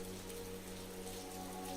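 Steady rain falling in a park, a soft, even hiss of drops on surfaces with no breaks, faint and continuous with no other sounds.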